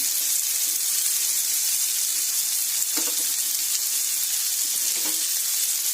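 Carrots and mixed vegetables fry in a pan with a steady, close sizzle throughout, with a couple of brief stirring clatters partway through.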